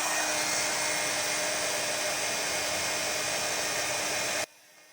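A heat tool blows loud and steady while setting white embossing powder on a handmade holiday card, its constant whirring hum filling the clip before it switches off abruptly near the end.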